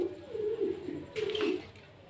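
Pigeons cooing nearby, a soft low rolling coo repeated over about two seconds with a brief brighter rustle partway through, no talk.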